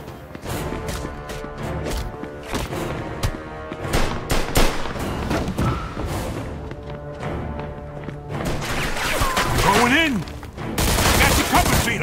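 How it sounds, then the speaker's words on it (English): Heavy gunfire in the video game Mafia II, rapid bursts and sustained volleys of shots with crashes and impacts throughout, loud and dense, with shouted voices mixed in. "Stop shooting that fucking thing."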